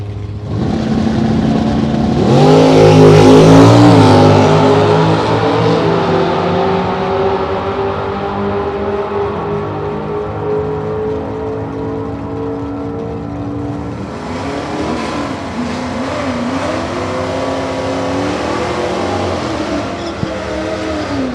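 At a drag race, a 1976 Pinto wagon with a 4-cylinder faces the High Country Hemi: loud engines rev hard and pull away with rising, shifting tones, then fade into a second distant surge.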